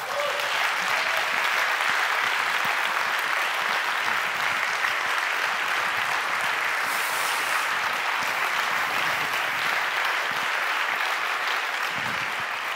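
Sustained applause from a large crowd in a packed hall at a climate show, a dense, even wash of clapping that holds steady throughout at high volume.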